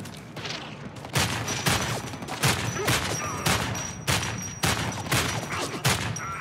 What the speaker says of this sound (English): Oh, shoot, that's a freaking machine gun